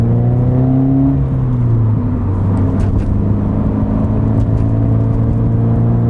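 Subaru BRZ with an aftermarket exhaust, its engine droning loud and close with steady harmonic tones that dip and settle as the revs fall, holding a constant throaty hum throughout.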